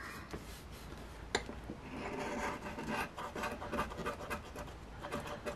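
Sharp-edged one-ounce silver bar scratching a lottery scratch-off ticket, a faint close rasp of quick repeated strokes with one small click near the start, growing busier toward the end, no talk.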